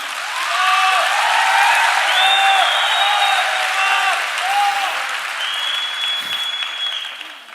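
A crowd of about 6000 people in Thyagaraj Stadium applauds steadily and loudly. The dense clapping holds throughout, with a few cheers and whistles rising above it.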